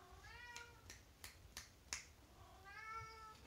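A hungry cat meows repeatedly before feeding time, with two drawn-out calls at the start and end and sharp clicks between them, close and clear with no talking.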